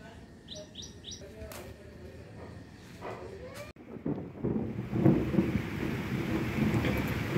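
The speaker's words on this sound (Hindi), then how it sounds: "शाम हो गया है और बारिश फिर से शुरू हो गई और गड़गड़ाहट तेज से आ रही है।" Steady rain and rumbling thunder on an evening in Varanasi, the downpour swelling into a dense wash after a few seconds, with birds chirping near the start.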